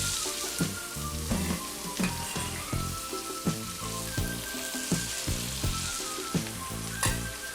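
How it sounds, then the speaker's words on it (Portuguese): Asparagus sautéing in a pan of butter with a splash of olive oil, a steady close sizzle broken by repeated stirring clatters and knocks. "Eu vou pegar um pouco de manteiga, vou acrescentar um toquinho de azeite de oliva e vou saltear então"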